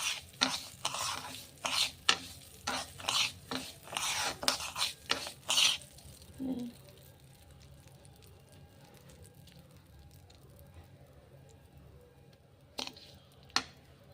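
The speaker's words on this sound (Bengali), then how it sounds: "চালটা ভালো করে ভেজে নিই ঘিতে চালটা ভেজে নিতে হবে" Rice is fried in ghee and stirred in a pot for khichuri, with a quick run of close scraping, clattering spoon strokes that stops halfway, leaving a faint low hiss, then two last scrapes.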